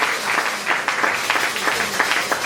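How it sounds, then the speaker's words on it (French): A church congregation claps together in a fast, steady rhythm, a dense wash of hands filling the room with no single voice standing out. "Acclamez plus fort pour le Seigneur Jésus-Christ."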